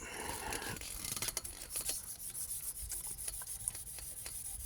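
Cloth wiping and rubbing over a part of a Kawasaki GPZ500S motorcycle during a cheap fix, a continuous close scrubbing rasp with short strokes and a few sharper scuffs.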